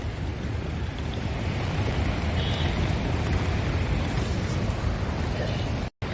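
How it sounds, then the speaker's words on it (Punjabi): The Parvati River roars past at Manikaran Sahib in the Himalayan valleys, a loud, steady broadband rush of fast-flowing water filling the whole stretch with no pause until a brief cut near the end. "ਦੇਖੋ ਪਾਣੀ ਕਿਦਾਂ ਆਵਾਜ਼ ਕਰਦਾ ਪਿਆ"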